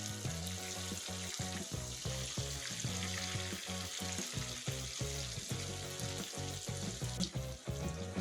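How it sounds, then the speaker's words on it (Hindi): Fish frying in oil for a crispy restaurant-style fish fry, a soft, steady sizzle heard beneath rhythmic background music that plays throughout, with no one speaking. "जब तक मछली फ्राई हो रही है"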